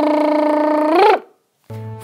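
A human voice imitating the engine of a boat, bike or old car as a vocal warm-up exercise, first a steady buzzing drone lasting about a second that bends upward and stops, then a pause and another steady buzz, close and loud.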